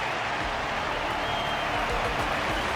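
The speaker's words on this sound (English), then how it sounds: "Their constant applause is a salute to this resilient Belabogian fighter." Audience applause in a Honkai: Star Rail cutscene at an arena wardance match, saluting a Belobogian fighter: a continuous, dense clapping roar from a large crowd, held steady and fairly distant throughout.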